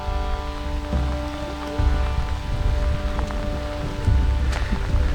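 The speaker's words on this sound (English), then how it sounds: "Raining a lot." Steady rain patters and hisses on surfaces in the Viking town of Birka, with low rumbling background noise underneath and no voices.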